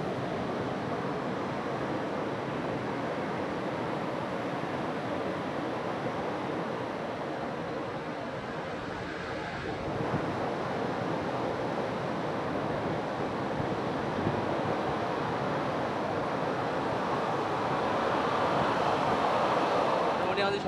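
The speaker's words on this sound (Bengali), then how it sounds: "এই যে চারিদিকে কেউ নেই, পুরো ফাঁকা, জল আসছে যাচ্ছে" Surf on the empty sand of Mandarmani sea beach at dusk, a continuous roar of waves rolling in and out, mixed with wind buffeting the microphone and growing slightly louder toward the end.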